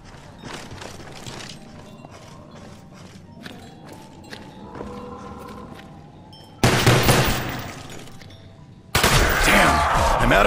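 Rapid automatic gunfire in Call of Duty: Black Ops zombies mode, starting as scattered shots and mechanical clatter, then breaking into two loud, dense bursts of continuous firing.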